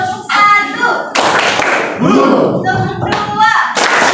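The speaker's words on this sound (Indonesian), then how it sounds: "Tepuk satu." Hand clapping in a classroom: bursts of group claps land between a teacher's spoken cues, loud and close, mixed with talk.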